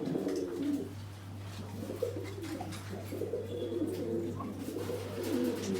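Pigeons in a loft coo steadily and close by at day's end, giving a continuous low, throaty murmur with soft overlapping calls and a few light rustles.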